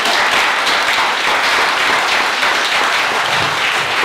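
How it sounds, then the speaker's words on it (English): A theater audience applauds sponsors at an evening event with dense, steady clapping from many hands that stays loud and even throughout. "I want you guys to clap every time I say somebody's name"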